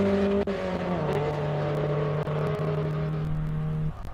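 A Ford Escort race car with a 2-liter four-cylinder engine runs on track in a classic car race, holding a loud, steady engine drone that shifts in pitch as it passes.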